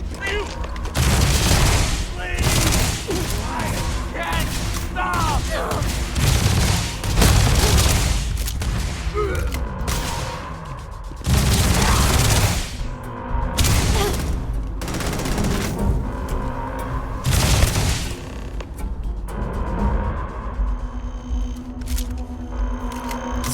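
Weapon gunfire in the Starfield video game: repeated loud bursts and booming volleys of shots crackle through a busy stretch of combat, with voices talking in between the blasts.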